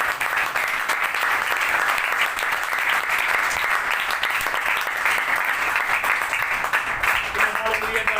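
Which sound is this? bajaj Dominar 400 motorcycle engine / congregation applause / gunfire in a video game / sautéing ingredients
congregation applause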